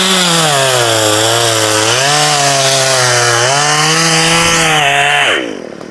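A chainsaw runs loud and close as it cuts through a curved, S-shaped coconut tree trunk, its engine pitch sagging and rising under load before it drops to idle at the end.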